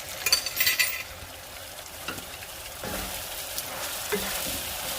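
Potatoes and beef brown and sauté in a pan with a steady broadband sizzle, interrupted by a few scraping stirs and light utensil clinks near the start; no voices.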